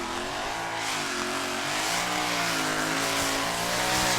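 A V8 Chevy-powered pulling tractor, Legend Nero, roars steadily at a 2014 tractor pulling event in Bouconville. The loud engine holds a dense, sustained drone with slowly shifting pitch throughout, and no voices are heard.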